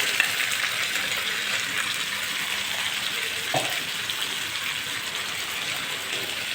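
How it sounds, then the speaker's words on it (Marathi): Onion and mushroom gravy fries in a pan with a steady, close sizzle that holds evenly throughout and is broken by one brief scrape of stirring partway through. No one speaks. "छान छानपैकी फ्राय करून घेऊया मस्त कलर येईपर्यंत"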